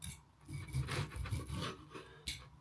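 A bread knife saws through food cooked in a pizza oven, giving soft rasping strokes with a sharper scrape near the end, faint and close with low background rumble.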